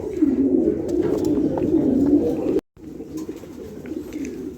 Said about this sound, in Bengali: এখন এখানে আছে একজোড়া ব্ল্যাক রোমাগনাল কবুতর, মাত্র নতুন কবুতর।